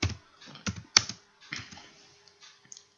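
Computer keyboard typing for a Microsoft Word 2016 mail merge, a close, uneven run of crisp key clicks in short bursts with pauses, alone without talk.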